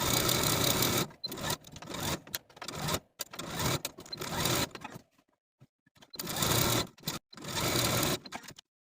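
A sewing machine stitches the pressed facing edges of a velvet dress in several loud, close bursts of rapid whirring, separated by short pauses of near silence.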